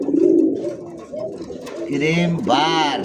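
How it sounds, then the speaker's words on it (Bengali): Low, throaty cooing from a male racer pigeon courting a female in heat, close by and repeated, with someone speaking over the first part. "এই দেখেন একটা রেসার কবুতরের নর দিছে দেখেন"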